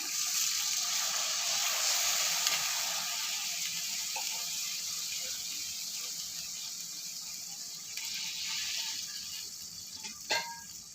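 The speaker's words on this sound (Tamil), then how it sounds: "இதுக்கு நான் ஒரு மூணு கப் தண்ணி விட்டுக்கிறேன் வெறும் தண்ணி" Water pours steadily into a pot of orange peel curry already holding tamarind water, a continuous close splashing and gushing that thins slightly toward the end, with a brief clink near the close.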